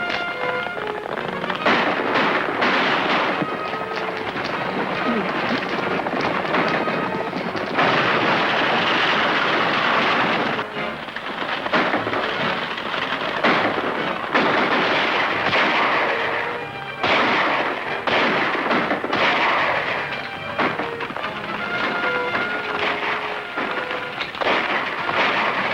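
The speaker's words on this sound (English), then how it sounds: "Whoever's doing that shooting is helping us." Rapid, sharp gunshots in an old Western shootout, crackling volleys and single cracks echoing back to back, loud and continuous with little pause.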